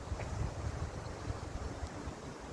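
Wind gusts buffet the microphone on a seaside walk at Gökova, a steady low rumble with soft surf-like noise underneath and no voices.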